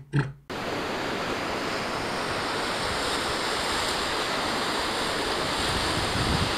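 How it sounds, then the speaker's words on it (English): Mediterranean Sea waves on the Etruscan coast wash in a steady, broad roar of surf mixed with wind noise, following a brief bump at the very start. "this is the Mediterranean Sea!"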